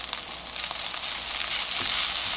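A pan of eggs, partly fried and partly scrambled for kimchi fried rice, hissing steadily, with the sizzle growing louder and denser and a soft scrape of stirring near the end.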